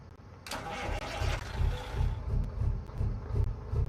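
Cummins N14 truck engine in American Truck Simulator cranks and fires with a burst, then settles into a deep rhythmic idle that pulses low and steady at moderate level, no talking.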